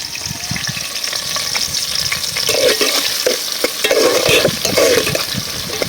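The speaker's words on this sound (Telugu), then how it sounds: "చిటికెడు మెంతులు తీసుకొని ఉల్లిపాయలు వేసి వేసేద్దాం." Onions and a pinch of fenugreek seeds fry in a pan for a fish curry, with a steady sizzle and repeated scraping strokes of a stirring spoon, close and without speech.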